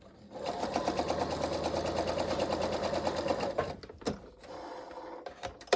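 A sewing machine stitches the ends of an interfaced cuff in a fast, even run of needle strokes for about three seconds, then stops, leaving a few soft handling clicks and thumps.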